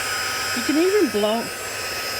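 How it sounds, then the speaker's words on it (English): A craft heat dryer blows steadily to dry ink on a handmade envelope card, a constant whirring hiss with a motor whine, while a voice briefly speaks over it. "I've got my dryer here."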